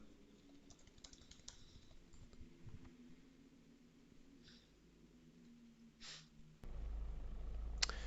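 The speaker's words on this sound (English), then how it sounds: "Let me just type please don't Idle kick." Quiet, scattered keystrokes on a computer keyboard with soft irregular clicks over low background noise, then a louder steady hum rises near the end.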